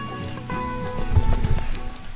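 Steady rain falls during a hike through the Basque Country, a continuous close patter of drops on the surface, with faint background sounds mixed in.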